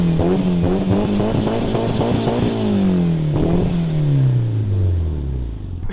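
A turbocharged Mitsubishi Lancer Evolution VI RS Sprint revs hard and close, pitch climbing in rapid pulses before winding down in a long falling drone, with a faint whistle on top.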